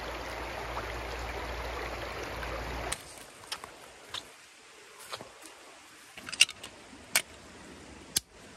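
Mountain creek flowing, a steady broadband rush of water for the first three seconds, then a quieter stretch with scattered small clicks and splashes nearby.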